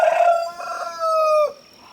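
A rooster crows loudly and close among a small flock of chickens in a little backyard pen, one long drawn-out call with a rising and falling tail and no talking.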